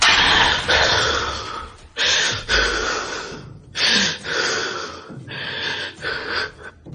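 A man pants heavily after running, in ragged gasping breaths that come in uneven bursts, close and breathy, with a dark horror-story feel.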